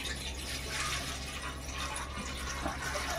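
Water pours from a small vessel into a cooking pot set on a lit gas stove, a steady soft trickling that runs the whole time without a break.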